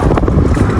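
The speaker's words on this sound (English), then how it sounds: "It's so windy." Strong winter wind blasts against the microphone outdoors, a loud, dense rumbling buffet lasting under a second with no pause.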